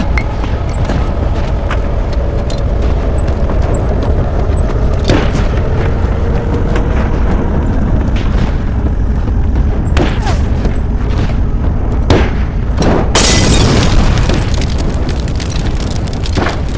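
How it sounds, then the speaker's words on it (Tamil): Continuous booming blasts and gunfire in a war battle scene, loud and dense throughout, with sharp bursts and a heavy explosion near the end. "தொடர்ந்து ஃபயர் பண்ணிக்கிட்டே இருப்போம்"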